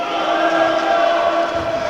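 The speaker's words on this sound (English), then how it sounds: "There's quite a bit of sound coming in as he was taking his free throw" Basketball crowd in an indoor arena during a free throw, a dense continuous roar of many voices with shouting, fairly loud and steady throughout.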